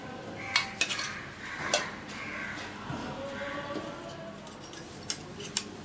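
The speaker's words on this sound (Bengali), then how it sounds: "আমি একটা মিষ্টি কেটে দেখাচ্ছি।" A knife cuts through a soft balish mishti sweet sitting on a plate, giving faint clinks and light taps of metal against the plate with a few sharper ticks, quiet and close, with no talking.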